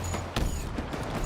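Bursts of Halo gunfire during a competitive esports match, dense rapid shots with a sharp crack near the middle, all packed into a short loud burst.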